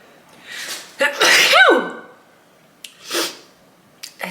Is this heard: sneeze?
yes